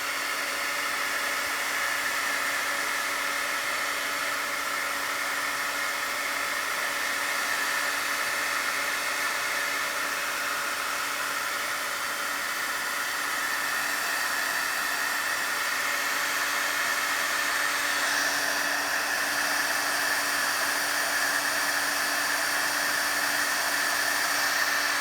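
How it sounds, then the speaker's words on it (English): A handheld heat tool blows steadily to dry alcohol ink sprays made from dollar store items, a loud continuous whooshing roar that stays level throughout with no other sounds. "So let's dry it here with a heat tool really quickly."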